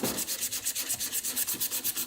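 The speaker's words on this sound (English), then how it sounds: "Sanding in the direction of the grain." Hand sanding of carved wood with sandpaper, working along the grain: steady, close rasping strokes in a regular back-and-forth rhythm, about six per second, with no voices.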